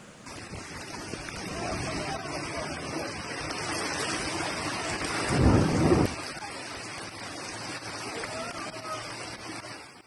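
Steady rain falls while a deep rumble of thunder swells briefly in the middle, then the downpour continues alone.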